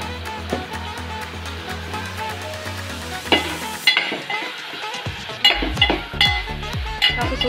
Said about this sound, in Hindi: अभी यहाँ पे मसाला जो है भुन चुका है और इसमें डाले दे रही हूँ ना मटर